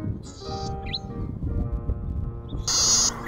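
A male golden-headed cisticola in Australian grassland gives two buzzy calls, each followed by a thin cheep, over a steady low background rumble. The second buzz is louder and nearer.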